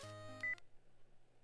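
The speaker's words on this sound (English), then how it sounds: "And my phone's ringing again." A phone in the visual novel video game Spirit Hunter: NG gives a short electronic ring tone that cuts off abruptly, followed by quiet background hum.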